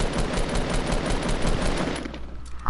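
Rapid gunfire in the video game Fortnite, dense sustained bursts of shots that fill most of the stretch before easing off, with a sharp hit at the very end.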